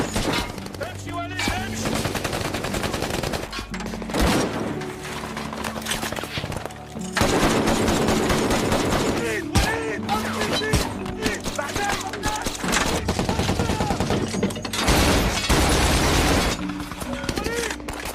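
Gunfire erupts in a film battle scene where a convoy is ambushed by ISIS at a roadblock, with rapid bursts and loud shots over a dense soundtrack while a voice speaks over the action.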